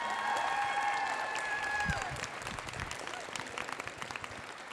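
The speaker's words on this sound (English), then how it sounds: "huge round of applause" An audience at a dance company Nutcracker event applauds a volunteer mom, dense clapping for about two seconds that then thins into scattered claps, with a voice briefly heard amid it.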